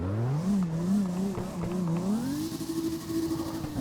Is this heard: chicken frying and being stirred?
no